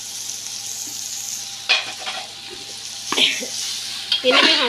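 Carrot, capsicum and cabbage stir-fry in a hot pan with a steady sizzle, broken by scraping stirs and louder hissing bursts, while a voice speaks briefly in Hindi.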